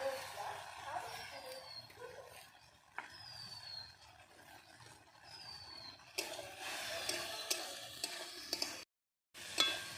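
A mix of potato, tomato and onion with ground ginger, green chilli and cumin powder is stirred and fried in a pan, a soft continuous scraping sizzle at moderate distance with intermittent utensil scrapes and a brief dropout.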